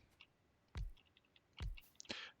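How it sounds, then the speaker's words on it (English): Belts being placed in the Factorio video game give crisp, sharp clicks, two distinct snaps spaced apart followed by a quicker cluster of lighter clicks, close and clear against a quiet background. "That's a very satisfying clicking sound that makes."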